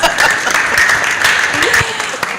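Audience at a climate and ocean leadership event applauds, a loud dense wash of clapping with a voice over it.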